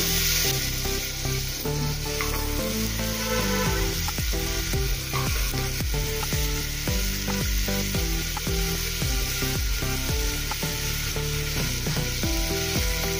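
Finely chopped onions and garlic cloves frying in a pan for a masoor and urad dal recipe, a constant loud sizzle with occasional stirring scrapes throughout, no talking.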